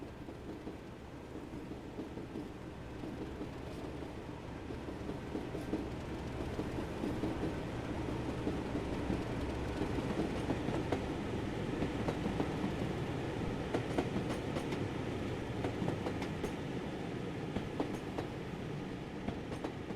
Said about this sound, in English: It is seen here passing Hordle Farm with a train bound for Wellow.